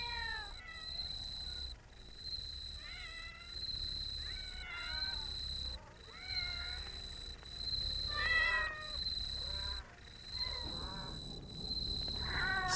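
Feral cats at a landfill at night meow and yowl repeatedly, several overlapping calls near and far over a steady low hum and high-pitched insect-like whine, with no talking.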